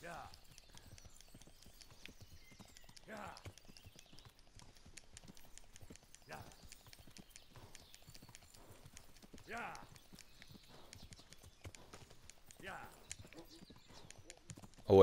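Horse hooves clip-clop at a steady walking pace in the medieval game Kingdom Come, the footfalls recurring rhythmically at close range over a faint ambient bed, with bursts of brighter sound between.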